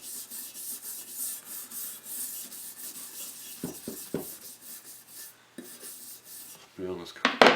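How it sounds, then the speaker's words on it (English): Hand sanding of paint on a Stanley Bailey Type 13 hand plane during a restoration, a soft rhythmic rubbing in repeated strokes, fairly quiet, with a few knocks and handling sounds near the end. "So we're just going to have to sand that."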